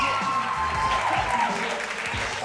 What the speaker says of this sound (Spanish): Fuerte el aplauso también para el Teatro Municipal.